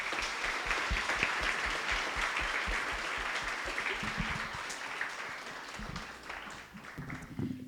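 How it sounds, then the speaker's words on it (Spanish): A forum audience at a cyberbullying event in the Morelos state congress applauds the panelists with sustained, even clapping that thins and softens toward the end, heard on its own without speech. "Así que, pues un aplauso para todos."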